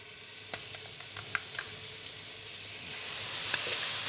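Garlic hits hot oil in a pan for chicken curry and crackles into a steady sizzle, with a few sharp pops early on and a hiss that grows slightly louder toward the end.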